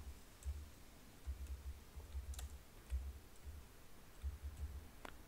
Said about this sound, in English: So we'll type in landing page real quick.